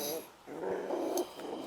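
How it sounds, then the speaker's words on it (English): A dog growls in low, rumbling bursts close by during feeding time with dry food softened in hot water, alongside another sound at the start, with no talk over it. "who is growling?"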